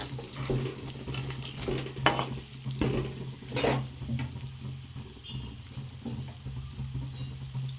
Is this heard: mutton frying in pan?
yes